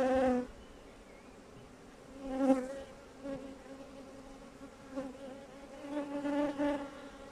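Honeybees drone around an opened beehive during colony splitting, a steady close buzz with layered wingbeat tones that swell and fade as bees pass near, with no talk.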